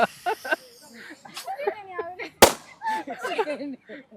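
A single sharp, loud pop like a balloon bursting cuts through lively, excited voices talking and laughing nearby.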